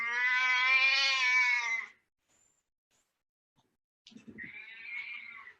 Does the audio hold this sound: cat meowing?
yes